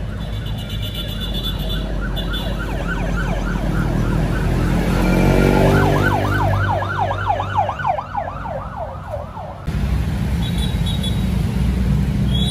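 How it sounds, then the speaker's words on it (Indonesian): An ambulance siren wails on a busy road in Malang, its rapid up-and-down sweeps growing loud as it passes close, then cutting off abruptly amid steady traffic rumble. "Masih ada ambulan."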